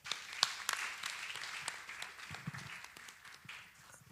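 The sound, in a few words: audience applause for a student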